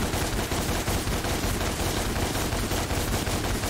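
Rapid, dense gunfire from the action game DmC: Devil May Cry, a loud continuous barrage of shots layered with game effects for nearly four seconds, with no talking.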